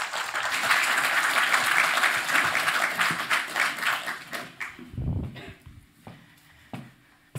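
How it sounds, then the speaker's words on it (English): A summit audience applauds distinguished alumni with dense, sustained clapping that fades over several seconds into scattered claps and a few dull thumps. "please join me in applauding our distinguished alumni once again"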